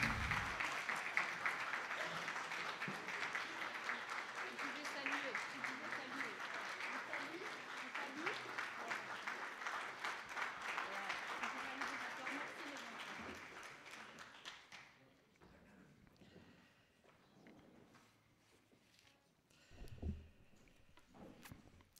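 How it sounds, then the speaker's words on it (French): A church congregation applauds the children at a French Protestant Sunday service, with dense, sustained clapping for about fifteen seconds before it fades into room murmur and a few quieter sounds. "on va les applaudir"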